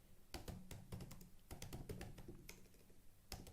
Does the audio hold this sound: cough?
no